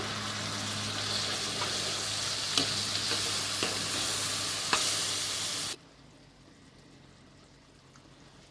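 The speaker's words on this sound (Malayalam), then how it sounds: "തക്കാളി നല്ലതായിട്ട് വഴന്ന് വരണം." Chopped tomatoes and small onions sauté in a pan, with a loud, steady close sizzle and a few sharp stirring clicks, until the frying cuts off abruptly, leaving near silence.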